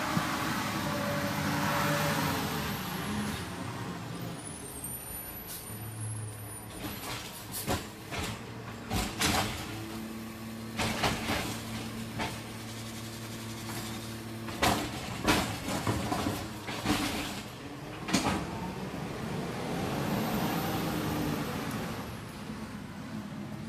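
A large garbage truck idles and rumbles nearby with hisses, clunks and mechanical bangs, engine tones shifting as it works and moves past.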